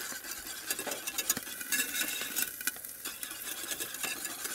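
A dessert mixture cooks in a pan with a steady, close sizzle and frequent soft stirring and scraping taps, continuous for several seconds with no talk.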